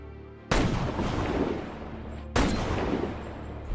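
Two sniper rifle shots in a Jack Reacher film scene, each a sudden loud crack followed by a long booming rumble and echo, the second about two seconds after the first, no talk.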